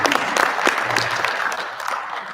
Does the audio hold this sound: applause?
yes